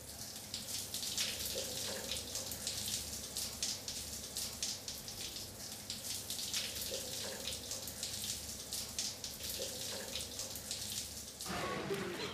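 Steady running water from a cold shower, a continuous broadband hiss spattering close by with no voices, ending in a brief change near the end.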